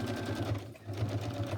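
A sewing machine stitches steadily through fabric coated in wet glue, its even mechanical whir running throughout at close range beneath a speaking voice.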